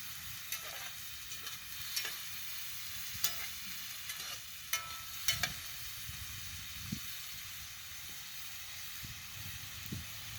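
Shrimp of the woods mushrooms fry in butter in a pan, a steady broad sizzle with scattered sharp pops and clicks of stirring, no talking.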